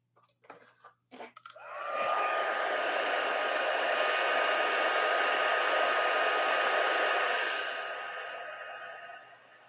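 Heat tool blowing hot air to melt embossing powder on a handmade Halloween card: a few soft handling taps, then a steady loud whooshing roar that holds for several seconds before tapering off, with no talk.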